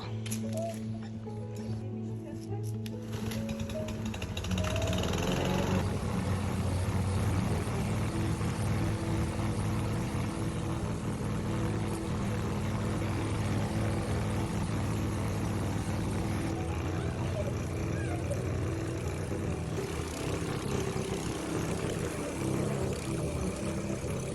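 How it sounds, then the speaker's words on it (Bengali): A gas lawn mower starting up and then running loudly and steadily while cutting backyard grass, its engine drone continuous and close throughout. "আজকে আমি চলে আসলাম গ্রাস কাটার জন্য মেশিন নিয়ে এই যে দেখেন মেশিন এখন মেশিনটা স্টার্ট করে নিব"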